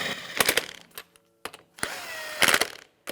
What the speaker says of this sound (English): 22mm socket, just snug them up.